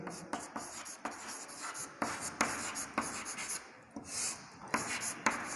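Pen writing by hand on paper during a lesson, with scratchy strokes broken by regular short pauses and taps. No voices are heard.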